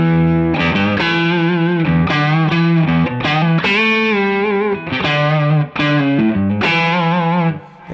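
An electric guitar played through a Wampler Pantheon overdrive pedal compared with the red side of a King of Tone overdrive, producing crunchy distorted chords and riffs that ring out continuously, loud and alone.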